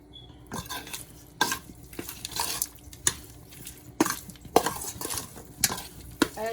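Cow skin meat frying in a pot for a Jamaican-style curry gives a low sizzle broken by repeated loud scraping and clattering stirs against the pot at an uneven rhythm, with no talking.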